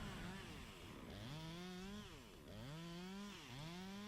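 Chainsaw bore-cutting into a burnt-out tree to clear holding wood, the engine revving and bogging in repeated rising and falling pitch sweeps, loud and close throughout.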